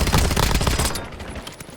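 Sustained rapid gunfire from a first-person shooter video game, a dense, loud machine-gun volley that rattles on for over a second before thinning into scattered shots.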